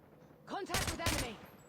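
A short voice is followed by two bursts of rapid gunfire from a Chicom submachine gun in Call of Duty Mobile, loud and close, with a brief pause between them.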